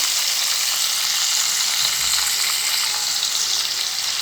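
Chopped green chilli, onion, coriander and mint sauté in a hot pan for salted dried meat rice, producing a dense, even sizzling hiss that stays loud and constant throughout with no talking.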